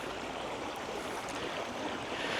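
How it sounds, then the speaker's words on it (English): A small waterfall on the Sulby River pours steadily into a wider pool, giving a continuous broadband rush of falling water that stays even and fairly close throughout, with no voices. "I can see a wider area of water with a little waterfall running in behind it."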